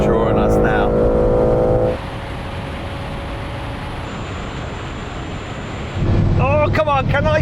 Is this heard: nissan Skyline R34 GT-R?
yes